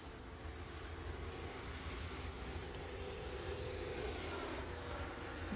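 A distant, faint whooshing whine from an E-flite Viper 90mm electric ducted fan model jet flying slowly with flaps down holds a steady pitch throughout, with no voices.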